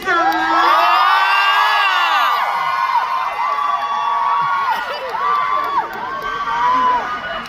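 Fans at a Grand Voice singing contest round cheer loudly, with high shrill screams, whoops and yells rising and falling in waves over crowd noise, close and intense throughout.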